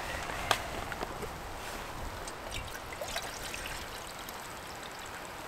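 Water for coffee is poured from a container on a Trangia stove outdoors in bad weather, a soft trickling stream over a hissy background with a few faint clinks early on.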